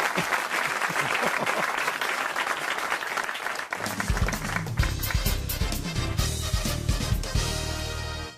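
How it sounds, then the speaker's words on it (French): Studio audience on a French radio comedy show breaking into sustained applause, steady dense clapping throughout, swelling louder and fuller halfway through with a faint voice or two mixed in. "ça s'applaudit vraiment, ça."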